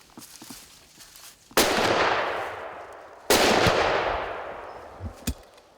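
Two loud, close hunting gunshots fire about two seconds apart during a hunt, each a sharp blast followed by a long, fading rumble and echo, over a quiet outdoor background.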